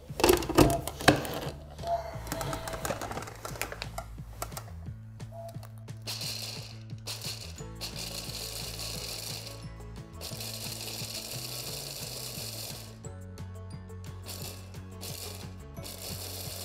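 Mixed nuts are chopped in an electric mixer, its motor whirring and grinding in short pulsed bursts that start and stop, with the blades rattling through the pieces.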